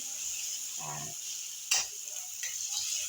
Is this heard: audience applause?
no